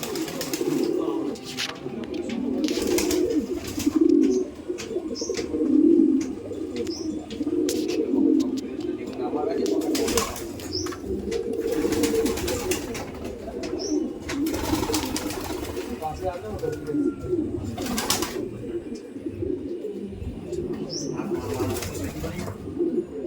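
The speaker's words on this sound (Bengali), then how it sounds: "পিজিয়ান্সগুলো ডাকছে দেখুন" Kaldom pigeons coo in soft, repeated throaty calls close by, with someone talking over them throughout.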